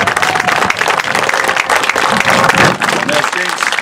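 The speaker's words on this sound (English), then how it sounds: "a round of applause to all our players" Applause for the players at a 2019 Armed Forces men's soccer championship match, a dense steady round of clapping from a crowd that fills the whole moment, with some voices mixed in.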